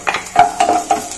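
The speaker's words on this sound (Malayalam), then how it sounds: "അതിലേക്ക് പച്ചമുളകും ഇട്ട് കൊടുക്കുക." Shallots and green chillies in hot oil for a Kerala-style dish, a close sizzle punctuated by four quick stirring scrapes of a spoon in the pan.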